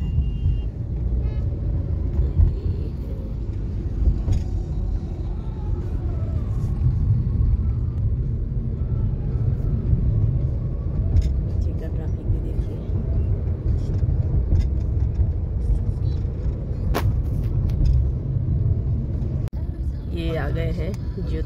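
Traffic jam near Jyoti Garden in Vadodara, with a low continuous rumble of cars, trucks and two-wheelers, occasional horns and clatter, and someone talking over it.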